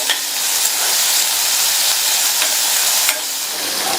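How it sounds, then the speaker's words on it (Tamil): Dried and green chillies sautéing in a pan, a steady close sizzle and frying hiss throughout, with a couple of faint clicks of stirring. "இப்ப இதை லைட்டா ஒரு 1/2 நிமிஷத்துக்கு மட்டும் வதக்கி விட்டுக்கலாம்"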